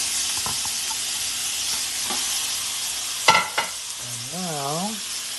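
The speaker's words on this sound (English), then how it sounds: "I'm going to do the lamb in that cast iron skillet." Burger patties of lamb sizzling in a hot cast iron skillet, with turkey in a nonstick pan, a steady close hiss broken by a couple of sharp scrapes and a brief tonal squeak near the end.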